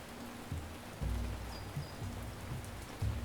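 Rain falls steadily in the video game Ancient Cities, a constant hiss of drops with a few soft low thumps, heard alone without talk.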